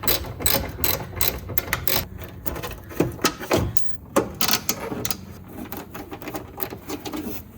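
A regular-size ratchet with extension and adapter loosening a rear bumper bolt on a 2012–2016 Porsche 991.1 Carrera 911: rapid, close metallic clicking in repeated bursts, with brief pauses between strokes and no talking.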